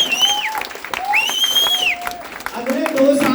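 An audience claps loudly at a talk, the applause mixed with rising and falling whistles and cheering voices.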